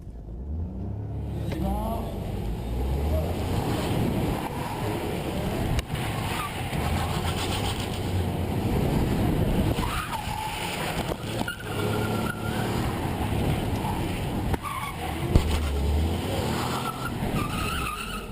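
A rally car is thrown around a short, tight hairpin course with handbrake turns, its engine loud and continuous for the whole run and tyres repeatedly skidding and squealing through the corners, with a brief sharp knock near the end.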